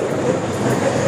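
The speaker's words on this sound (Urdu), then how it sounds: "ٹرین موو ہو رہی تھی" A passenger train pulling out of a station platform, a steady loud rumble of wheels and carriages rolling continuously with no voices over it.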